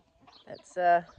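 A short burst of chicken clucking close by, a couple of brief calls ending in a louder drawn-out cluck.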